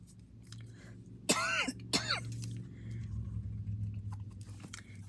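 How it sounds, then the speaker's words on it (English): Two sharp, close coughs with throat clearing come about half a second apart over a low background hum, followed by quiet room noise. "Excuse me, I'm gonna cough."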